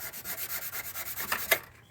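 A red Scotch-Brite pad scuffing clear coat in a Turbo D-series Civic's engine bay, close rapid rhythmic rubbing strokes about eight per second, ending in a sharper scrape.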